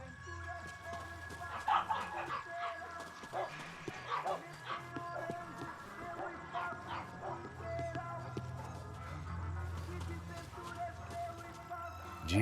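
A dog in the video game Max Payne 3 gives a run of barks and yips, moderately close, over a low background hum with talk mixed in.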